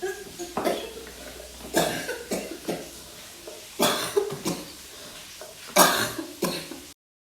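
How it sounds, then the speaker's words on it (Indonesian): A woman coughs repeatedly in short bursts with gaps between them, close to the microphone, with some throat-clearing sounds mixed in, acting out choking in a Heimlich maneuver demonstration. "Ibu batuk dan memegang leher, apakah ibu tersedak?"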